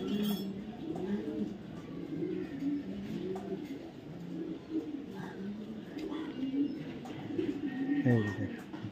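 Racer pigeons, kept alongside Pakistani pigeons, coo in low repeated throaty bursts throughout, with a steady murmur of birds close by and a faint voice in the background.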